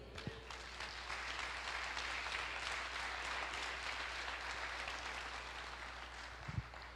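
A church congregation applauds in a steady, even wash of clapping that stays moderately faint and continuous, with a brief low thump near the end.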